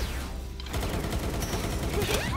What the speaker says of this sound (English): Machine gun's back.